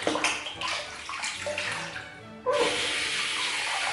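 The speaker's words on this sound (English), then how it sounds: "I'll just rinse off the brush so you can get a good look at it." A shaving brush is rinsed under a running tap, with steady splashing water that briefly eases, then surges back louder and continues close by.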